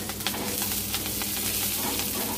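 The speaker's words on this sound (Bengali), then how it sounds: "লঙ্কাগুলো ভাজতে দিয়ে দিচ্ছি" Torn green chillies sizzle in hot oil with golden-fried garlic, a steady close broadband hiss with faint crackles running evenly throughout, no voices.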